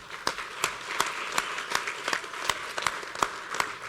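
Scattered applause from an audience at a water taste test finalist announcement: a dozen or so distinct, sharp claps at an uneven rhythm over a soft bed of background noise, fairly close.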